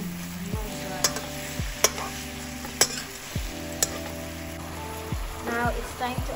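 Mongolian beef stirred in a sizzling pan: a continuous sizzle broken by several sharp spatula clinks and scrapes against the pan.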